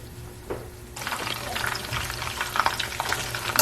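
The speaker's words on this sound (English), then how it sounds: "we're just going to let them sit in there and keep frying" Chicken pieces frying in vegetable oil burst into a loud, crackling sizzle after a quiet start, with dense popping and spattering that continues steadily to the end.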